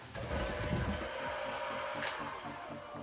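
Electric mixer on medium speed mixing batter with eggs for s'mores bars, a steady low whirring hum with faint rhythmic pulsing, continuous and fairly quiet, no talking.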